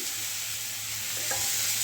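Pointed gourd frying in hot oil in a pan gives off a steady, close sizzling hiss, with a brief stirring scrape just past the middle.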